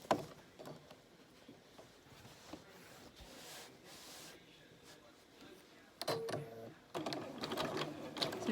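A sewing machine stitches over a fleece fabric collage in short bursts of rapid mechanical whirring and clatter, quiet at first and then louder in the closing seconds.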